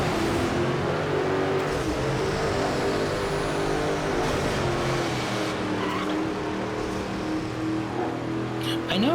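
A V6 car engine in the video game Midnight Club 3 drones and revs continuously, its pitch rising and falling through gear changes, with occasional tire squeal, steady and loud throughout.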